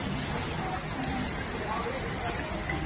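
Heavy cloudburst rain pours steadily in an unbroken, dense hiss close by, with no voices over it.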